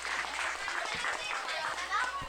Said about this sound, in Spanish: para quien vuelvo a pedir otro aplauso fuerte